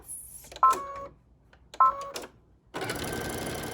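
Sewing machine stitching a seam on a T-shirt, two short whirring bursts close by separated by pauses, followed by a longer continuous run of stitching, fairly quiet overall.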